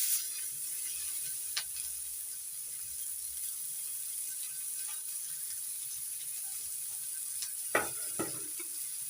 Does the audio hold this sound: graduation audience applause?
no